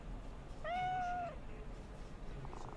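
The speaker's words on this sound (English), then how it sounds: "Yes, you can pet the ugly-ass cat." A single drawn-out meow from a cat in Cyberpunk 2077, clear and close over a quiet low hum, followed by faint background game sound.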